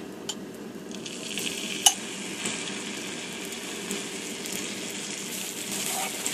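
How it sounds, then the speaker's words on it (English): Garlic sizzling in melted butter in a large sauté pan over low to medium heat, a faint steady hiss with a single sharp utensil tap near the start, no voices. "in a large sauté pan over low to medium heat, you're going to want to put the butter in and get that melted. And to that we're going to add the garlic."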